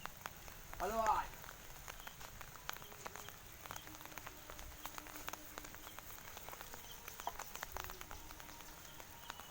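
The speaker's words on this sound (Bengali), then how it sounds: "এত আস্তে আস্তে বৃষ্টি হচ্ছে ভাই," Light rain falls outdoors in a soft, faint patter of scattered drops and small ticks. A voice is briefly heard near the start.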